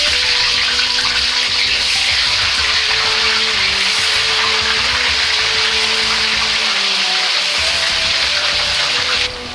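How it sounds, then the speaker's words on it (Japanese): Potatoes deep-frying in hot oil, a loud steady crackling hiss that holds evenly for nearly ten seconds, with a faint tonal hum underneath. "じゃがいもを揚げていきます。"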